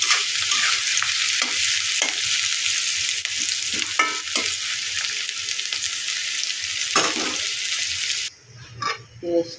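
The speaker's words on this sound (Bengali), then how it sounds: "পেঁয়াজটা ভালোভাবে ভেজে নিয়েছি।" Onions frying in a pan for a fish curry, a steady loud sizzle with stirring scrapes throughout, cut off near the end by a brief quieter patch with a few clinks.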